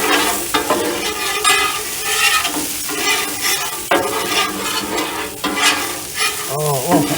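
Garlic fried rice is stirred in a sizzling pan, giving a steady loud frying hiss with repeated scraping strokes of the spatula throughout and a brief clink near the end.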